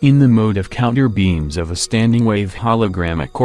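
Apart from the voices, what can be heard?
No everyday noise stands out behind the speech.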